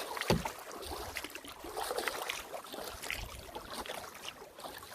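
A double-bladed kayak paddle dipping into water beside an Esquif Prospecteur 16 canoe, soft rhythmic swishes and splashes over gentle water and wind noise, close but faint with no talk.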